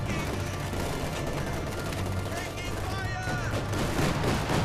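Flak cannon fire in the Company of Heroes 2 strategy game forms a dense, continuous barrage of battle noise with rapid gunfire and mechanical clatter, loud and steady throughout.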